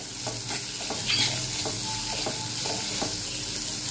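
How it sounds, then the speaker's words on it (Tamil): Onions sautéing in hot oil with fennel seeds in a kadai, a steady close sizzle with repeated scraping stirs of a spoon against the pan throughout, no talking. "இப்போ வெங்காயம் நல்லா வதங்கட்டும்."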